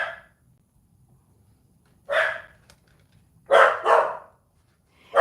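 Dogs barking in short bursts, one single bark and then a quick double bark, fairly close and loud, separated by quiet gaps with no talking.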